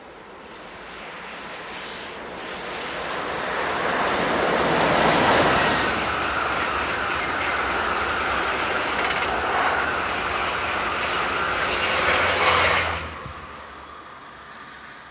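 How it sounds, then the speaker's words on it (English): A Class 26000 electric locomotive hauls an overnight train from Barcelona past the listener, a broad rushing roar that swells, holds through the middle and fades quickly after about thirteen seconds. "26117 powers north with the 1957 overnight train from Barcelona."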